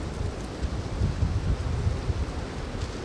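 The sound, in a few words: strong wind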